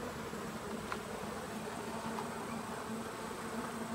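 Honey bees buzz continuously at an opened hive on a farm, a dense, steady drone close by with no voices.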